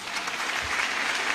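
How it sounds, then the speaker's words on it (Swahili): Steady applause from an audience at a memorial gathering, a dense, even patter of many hands clapping, moderately loud and continuous throughout. "Makofi mengi sana, makofi mengi sana."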